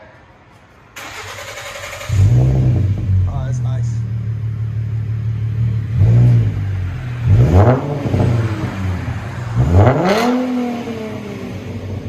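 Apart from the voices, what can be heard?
V6 car engine revving through exhaust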